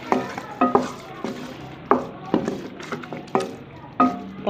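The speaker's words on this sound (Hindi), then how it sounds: "पाँच मिनट तक हम इसे भूनेंगे" Potatoes and minced keema fry in a pan for aloo keema, a spoon scraping and stirring in repeated strokes about every half second over a steady close sizzle.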